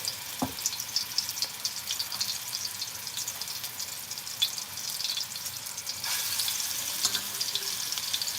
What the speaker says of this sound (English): we're just gonna put them in there and let them fry